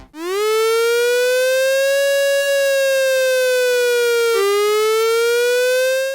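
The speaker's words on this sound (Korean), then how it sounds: "이번에는 높낮이가 있는 사이렌이에요" A loud civil defense siren wails alone as a nuclear attack warning, its pitch sliding up and down in a slow, continuous rise and fall.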